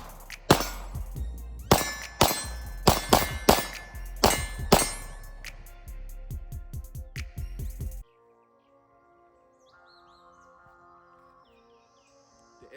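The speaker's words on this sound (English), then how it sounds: "let's shoot on the move" Pistol shots ring out loud and close, each one followed by the clang of steel targets, in an uneven run of rapid shots while the shooter moves, then quiet.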